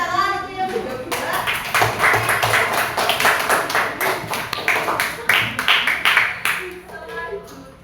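Schoolchildren in an elementary classroom clap their hands in a quick, rhythmic burst of close, sharp claps that carries on for several seconds, with a voice speaking at the start and end.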